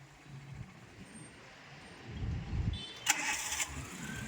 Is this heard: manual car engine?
yes